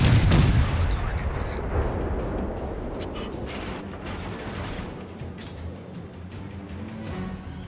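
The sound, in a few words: warship artillery fire in World of Warships video game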